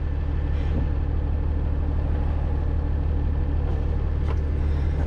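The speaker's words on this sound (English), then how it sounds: "I'll let the cars pass." Cars rumble past on a road, a steady wash of traffic noise heard from nearby.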